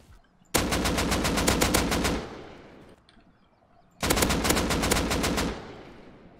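Two loud bursts of rapid automatic gunfire in the game Rust, each lasting about a second and a half with a tight, rattling rhythm, separated by a short quiet pause and trailing echoes.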